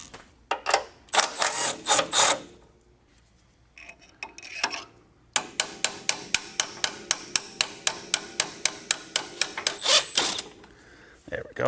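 A 3/8-inch right angle impact wrench hammers suspension bolts loose on an EM1 Civic Si, firing in several close, loud bursts of rapid rattling blows with short pauses between them and no talking.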